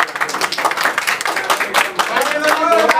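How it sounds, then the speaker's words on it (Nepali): Applause from the congregation at a Nepali Christian church wedding, a dense run of many hands clapping that holds steady for about three seconds, with a voice or tone rising near the end. "ल हामी उहाँहरूको लागि एकदमै ताली बजाउँछौँ।"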